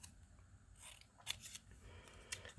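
Scissors snip paper to cut out a word for a collage, several soft close crisp cuts in quick succession, faint and alone.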